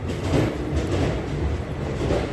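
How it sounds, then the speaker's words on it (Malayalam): Low rumbling rail noise at Thiruvananthapuram Central railway station, a train rolling with a steady throb and faint rhythmic pulsing, moderately distant. "നമ്മളിപ്പോൾ ഉള്ളത് തിരുവനന്തപുരം സെൻട്രൽ റെയിൽവേ സ്റ്റേഷനിലാണ്."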